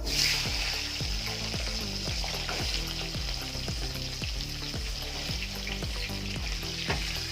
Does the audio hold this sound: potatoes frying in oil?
yes